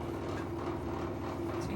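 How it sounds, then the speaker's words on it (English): An LG washer-dryer combo drain pump struggling as it tries to empty water: a steady, rough droning hum with a pulsing, chattering undertone, continuous and fairly close. "You can hear the pump does not sound right."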